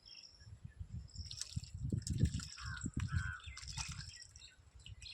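Fermented cow dung and water solution is poured onto plants, with a faint, quiet trickle and dripping of liquid in uneven spurts, insects chirping lightly in the background.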